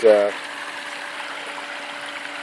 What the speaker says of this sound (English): a waterfall and pond I made for the ducks